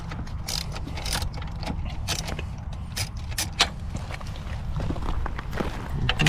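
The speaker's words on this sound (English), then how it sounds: "Use you a 12 millimeter to get that seat off." Wrench clicks and metallic handling of fasteners while a 12 mm wrench loosens the seat bolts on a Honda Monkey, a close, irregular series of small taps and rattles over steady background noise, with no talk.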